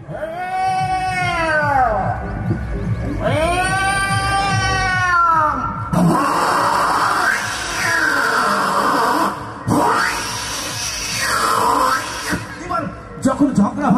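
A voice imitates two cats fighting over a piece of fish, with drawn-out rising and falling yowls followed by harsher screeching caterwauls, loud and close on a stage.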